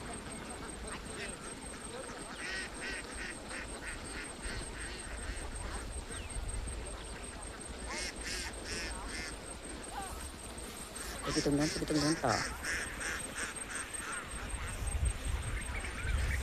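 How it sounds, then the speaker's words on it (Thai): A large flock of herded ducks numbering over a thousand, moving in a line across a harvested rice field in Nong Chok, quacking faintly in the background while people talk over them, with a louder burst of calls near the end. "วันนี้พามาชมเป็ดไล่ทุ่งกัน"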